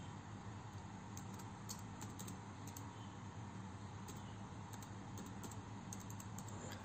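Faint keystrokes tap in short bursts on a computer keyboard over a steady, loud background hiss, irregular clusters of light clicks with no talking.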